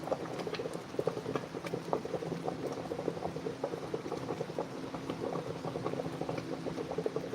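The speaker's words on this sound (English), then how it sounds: "So the water is boiling," Water rolling at a steady boil in a pot on a stovetop, with dense continuous bubbling and popping at an even level for several seconds, close by and with no voices.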